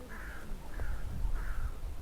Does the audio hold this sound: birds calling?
yes